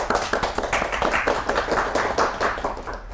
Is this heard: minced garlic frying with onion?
no